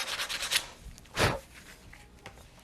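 A primed car body panel is hand-sanded in a few slow, rasping strokes, with one clear, louder rub in the middle and fainter scuffs around it, close and fairly quiet.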